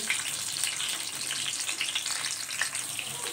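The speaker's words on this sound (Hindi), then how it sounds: "ऑयल जो हमारा गर्म हो चुका है, तो हम इसमें प्याज को ऐड कर देते हैं।" Sliced onions sizzle in hot oil in a pan for a chicken, spinach and potato curry, a bright crackling fry with small pops, close and continuous without talk.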